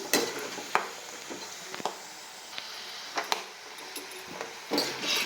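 Peanut pakoda frying in oil makes a soft, fairly quiet sizzle, broken by scattered stirring clicks and scrapes of a spoon against the pan.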